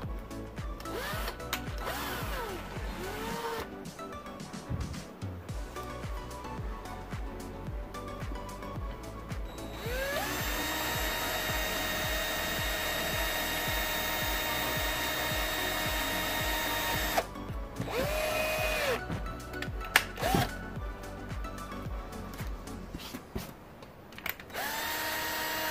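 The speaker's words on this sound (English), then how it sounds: "I'm gonna drill through those holes." A power drill with a 1/8 inch bit whines steadily at close range, spinning up in several bursts with brief pauses, then a long sustained run as it bores through plastic.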